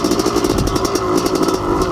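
Honda CR500 two-stroke dirt bike engine on an enduro single-track trail, running loud and close with a throbbing, steady drone and rapid pulsing revs over two seconds.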